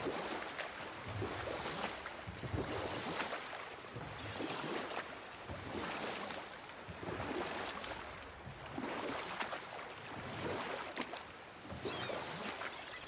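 Oars dip and pull through water in a steady rhythmic rowing cycle as a small boat glides in the God of War video game, with soft splashes and lapping water repeating roughly every two seconds.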